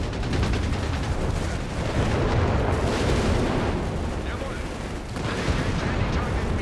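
Dense, continuous artillery barrages and explosions rumble through a Company of Heroes 3 battle, with heavy low booms piling on one another and no gaps between impacts, with a commentator talking over them.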